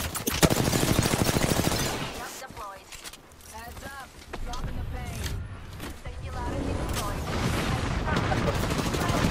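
Rapid bursts of gunfire from an Apex Legends match rattle through, with gameplay effects and players talking over the shooting.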